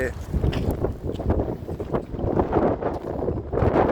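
Strong sandstorm wind gusting in Kuwait, a continuous loud roaring rush with buffeting against the microphone throughout, no pauses.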